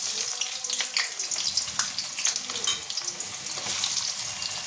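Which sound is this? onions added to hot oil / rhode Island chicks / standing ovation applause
onions added to hot oil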